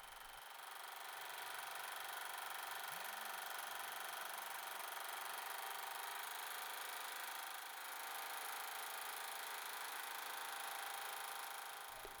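Sewing machine running steadily while stitching horizontal straight lines on reclaimed silk, a faint continuous hum with a soft mechanical drone, constant and unbroken.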